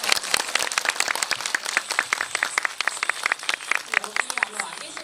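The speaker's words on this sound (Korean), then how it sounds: "같이 다 같이 박수 한번 쳐주시면" An audience claps together at an occult-themed film night honoring a director, a dense burst of many hands close by, steady and lively throughout.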